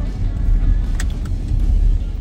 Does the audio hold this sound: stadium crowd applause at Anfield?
no